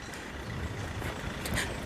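Road traffic on a street in Spain, a faint, continuous wash of passing cars with a brief brighter hiss near the end, heard from a distance without speech.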